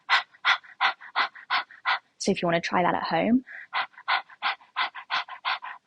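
A person imitates a dog panting with quick, rhythmic breathy puffs, briefly interrupted by a few spoken words, then resumes the steady panting.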